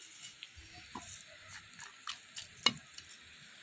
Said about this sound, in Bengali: যত সময় ছ্যান ছ্যান করবে আওয়াজ হবে অত সময় বাজা বন্ধ দেবো না